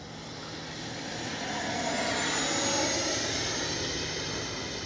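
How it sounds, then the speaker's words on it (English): A radio-controlled FlyFans L-39 model jet flies past, its turbine a steady rushing whine that swells as it nears and then slowly fades, heard alone. "what a good flying little jet"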